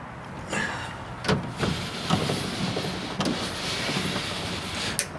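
A new window crank lever on a Chevy C10 door, with 73-87 aftermarket door panels, is turned, giving a run of close mechanical squeaks, clicks and grinding whirs over several seconds.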